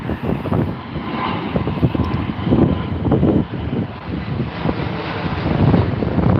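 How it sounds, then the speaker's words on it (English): A KLM airliner takes off at Heathrow, its loud, sustained jet roar rolling steadily with gusty wind buffeting the microphone throughout. "KLM on the way out, folks."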